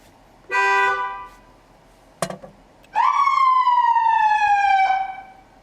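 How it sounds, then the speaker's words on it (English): A short blast of a vehicle horn, a brief electronic chirp, then a siren wails steadily for about two seconds before cutting off. "we're going to check to make sure the siren works as well"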